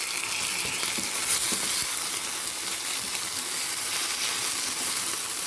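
Cumin, garlic and green chilli sauté in a pan with a continuous, close, hissing sizzle and faint occasional stirring taps throughout.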